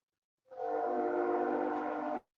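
A train horn sounding as the train passes through a town about an eighth of a mile off, one sustained chord-like blast of roughly two seconds, distant and soft, heard alone.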